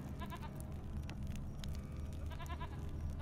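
A goat in The Witcher 3 gives two short, wavering bleats, one near the start and another near the end, moderately faint over a steady low rumble of ambient game background.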